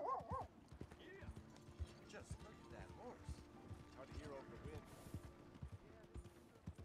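Mustang horse in Red Dead Redemption 2, hooves clip-clopping in a steady walking rhythm at close range, with someone talking over much of it and faint game ambience behind.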